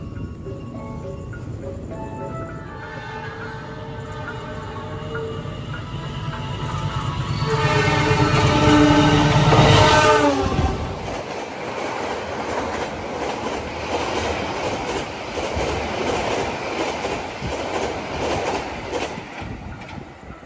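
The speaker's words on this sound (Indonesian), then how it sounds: "Argo Bromo Anggreknya ngebut banget asli" The Argo Bromo Anggrek express train roars past at speed in Indonesia, its rumble building to a loud peak with a horn blast, then rushing clickety-clack fading away.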